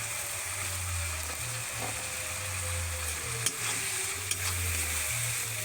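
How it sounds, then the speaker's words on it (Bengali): Spice paste with chopped tomato and a splash of water sautés in a pan, giving a soft steady sizzle with a low hum under it and two brief sharp utensil clicks near the end, close and fairly quiet, with no speech. "বেশ ভালো করে মশলাটা কষে নেবো"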